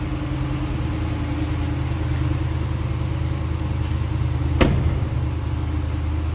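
A 2021 Ram 2500 Tradesman 4x4 pickup idling outdoors, a steady low engine drone heard from behind the truck with one brief sharp knock partway through.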